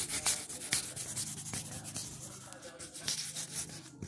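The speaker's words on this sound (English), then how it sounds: "let's scratch on now the disc. So let's scratch it on the wall" A DVD disc is scraped against a wall in a quick series of rough, sharp scratching strokes, close up and fairly quiet, with no talking.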